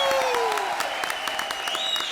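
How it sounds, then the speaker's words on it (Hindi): Studio audience applause on the Comedy Circus set, greeting a judge: a short burst of continuous clapping with crowd noise, steady and fairly loud, with tonal music or effects sweeping over it. "वन ऑफ द बेस्ट जज ऑफ कॉमेडी सर्कस अरबाज भाई के लिए फिर से जोरदार तालियां"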